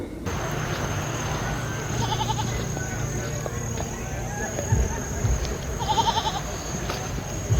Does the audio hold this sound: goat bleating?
yes